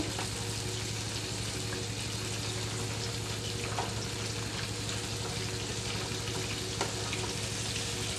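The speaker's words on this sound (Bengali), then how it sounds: "দুই সাইডে আমি উল্টিয়ে পাল্টিয়ে ভেজে নিচ্ছি লাল লাল করে মুচমুচে করে ভেজে নিচ্ছি" Semolina puli fry until crisp and reddish in hot oil, a loud, dense, steady sizzle and bubbling that continues evenly throughout with occasional small pops.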